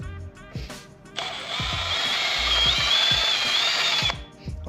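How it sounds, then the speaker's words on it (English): A power drill whirs steadily for about three seconds while drilling a hole in a car part, a loud high-pitched motor whine with light clicks and handling noises before and after. "I have to drill the hole also a little bit."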